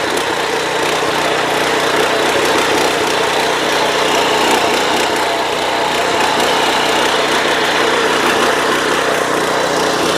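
A power weeder's small engine runs loud and steady throughout, a constant buzzing drone with no pauses or changes in pitch.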